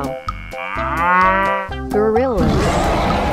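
A cartoon cow moos loudly in a long, sliding low call that bends upward near the end, over a bright, rhythmic cartoon music bed with percussive hits.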